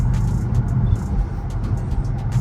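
Road traffic with trucks heard from inside a Dodge Charger R/T, a steady low rumble of engines and tires with faint passing swishes, no talk.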